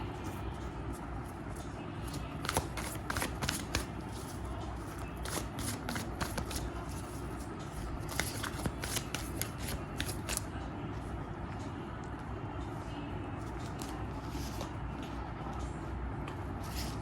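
A deck of cards being shuffled during a horoscope reading, with riffling flutters and snaps between about 2 and 10 seconds over a steady rumbling background, then just the background.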